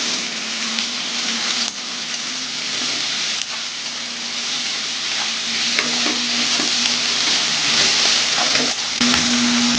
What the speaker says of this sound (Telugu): ఇవంతా ఉల్లిపాయ ముక్కలు నూనెలో వేగేటట్లుగా కలుపుకుంటున్నాను